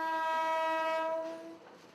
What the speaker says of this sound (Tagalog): Tunog pa lang daw ng tren,